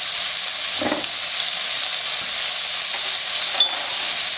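About 300 grams of crab meat sizzles and stir-fries in a pan with garlic and shallots, a steady loud hiss of frying with a few scrapes and stirring noises close by.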